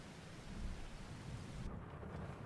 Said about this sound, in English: When does the rain get done?